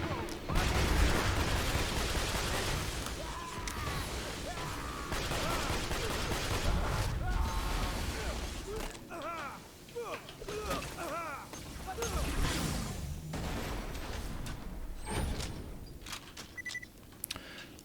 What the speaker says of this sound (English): there's still one more enemy shooting at me.